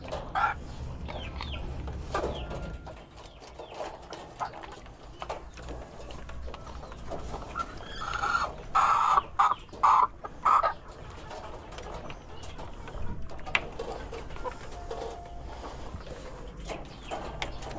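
Chickens cluck in short bursts, loudest in a brief cluster near the middle, amid rustling, shuffling and faint background noise, with no voices.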